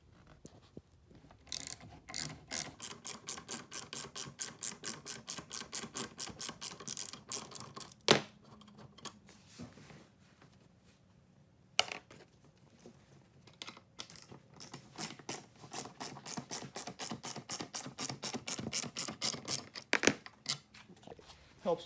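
Bolts are being backed out of an 80–84 VW Vanagon seat with a ratcheting tool, giving long runs of rapid, sharp clicks nearby, then a short pause, then another fast burst of ratcheting.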